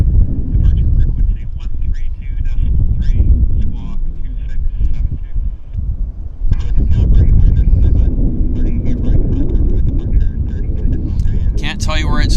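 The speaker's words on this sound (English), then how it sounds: "I do see we have a Q400 on approach" A WestJet Q400 turboprop on approach to Vancouver airport gives off a broad, steady rumble amid wind buffeting on the microphone, with someone talking over it for much of the time.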